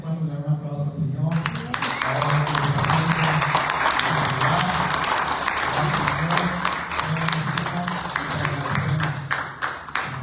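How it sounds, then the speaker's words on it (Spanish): A church congregation breaks into applause after a few seconds of talk, loud, dense clapping close by that carries on steadily, with a voice speaking over it at intervals. "¿Cuántos le dan un aplauso al Señor?"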